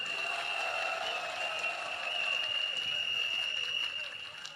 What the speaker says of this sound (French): Il faut les applaudir beaucoup plus fort que ça